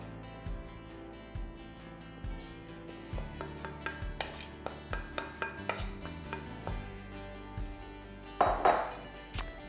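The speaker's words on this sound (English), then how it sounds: "we'll just add the dry ingredients that we prepared earlier to the wet ingredients" Dry ingredients being mixed into wet gluten-free brownie batter in a bowl, with repeated soft clinks and scrapes of a utensil against the bowl, steady and close, ending in a brighter clatter.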